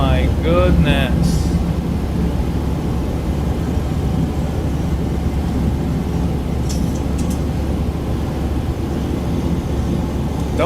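A simulated Boeing 737 airliner in flight in a flight simulator game, heard as a loud, unbroken engine and cabin drone throughout, with a brief voice near the start.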